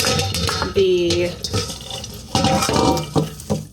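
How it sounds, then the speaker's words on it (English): Washed carrot-top greens for backyard kimchi are wrung out by hand, and wet squelching, dripping and splashing come in close bursts over a couple of seconds. "What I'm doing here is I squeeze the water out."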